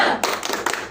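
Participants in a stunting-prevention training session clap a short rhythmic pattern, a few quick, close claps in a tight burst.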